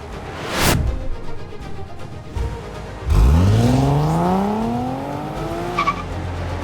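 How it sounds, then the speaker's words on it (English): Nissan 370Z, a rear-wheel-drive, naturally aspirated sports car, roars past nearby, then revs hard with a rising engine note and tire squeal that tapers off, alone with no talking. "that is the 370Z, the last of a dying generation rear-wheel drive, naturally aspirated sports cars"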